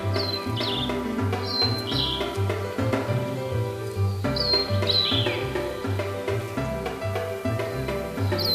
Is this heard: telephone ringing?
no